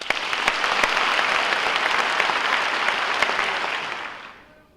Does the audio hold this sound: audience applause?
yes